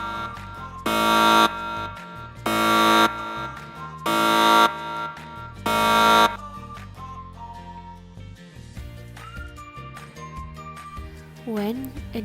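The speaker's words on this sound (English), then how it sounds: "warning alarm" The speaker on a small water-cleaning boat sounds a warning alarm: four loud, evenly spaced buzzing tones, each about half a second long. After them comes a quieter stretch with faint tones and background sound.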